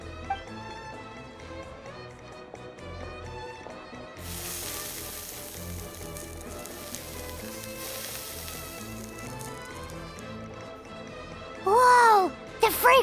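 Mushrooms searing in Genshin Impact, a soft continuous in-game sizzle under layered music that brightens partway through, ending with a brief louder swooshing effect.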